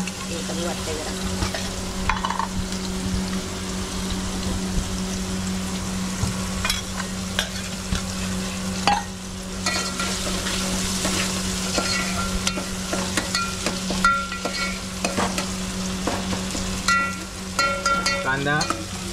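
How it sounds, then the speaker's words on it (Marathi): Chopped onions frying in hot oil in a home kitchen while being stirred, a continuous close sizzle broken by repeated scraping and clinking of a spoon against the pan. "कांदा लाल होईपर्यंत भाजून घ्यायचा मंडळी"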